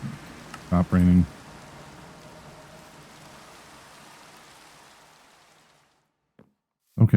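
Steady rain in the Minecraft video game hisses across the first several seconds as a broad, even wash that fades out, broken by a couple of short louder bursts near the start and near the end.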